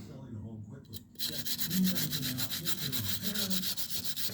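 A brush scrubs polish into tar on the roof rail molding of a 1968 Camaro, giving close, rhythmic rubbing strokes that start after a short quiet moment and continue steadily.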